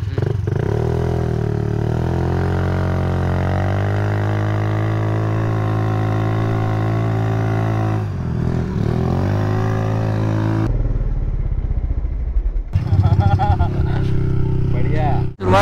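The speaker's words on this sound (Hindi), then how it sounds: "आवाज बहुत कर रहा है इसका इंजन।" A 300cc vehicle engine drones loudly and continuously, its pitch wavering with throttle changes, close by, with a rider talking over it in places.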